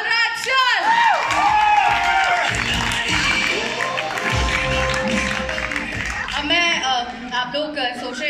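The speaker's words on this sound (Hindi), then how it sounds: "तो ladies and gentleman, please welcome जोरदार तालियों के साथ बलराज चल।" A studio audience cheers and claps for a contestant's entry at a Khatron Ke Khiladi stage event, a loud continuous crowd roar with whoops, while an announcer talks over it.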